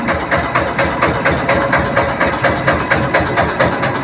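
A tractor engine idles near a garage in a village in Hoshiarpur, giving a steady, loud, continuous rumble with an even rhythmic knock throughout.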